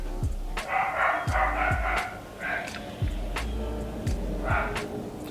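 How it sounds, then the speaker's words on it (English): Pet dogs at home bark in quick, sharp bursts, about seven loud close barks with yips and whimpers, spread out over several seconds. "Sorry, my dogs are psychos."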